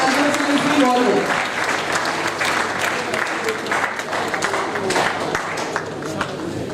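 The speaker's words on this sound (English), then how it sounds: "May we please continue to put our applause forward as our Honorable Vice Chancellor is being honored." Audience at a national conference applauds as a university vice chancellor is honoured: sustained, dense clapping across the hall with faint voices and murmurs underneath.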